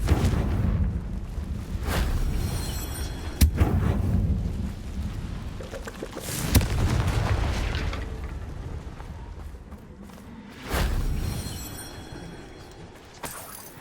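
Booming spell blasts from Confringo in the video game Hogwarts Legacy, several heavy explosive bursts spaced across a rumbling, thunder-like background, loud and close.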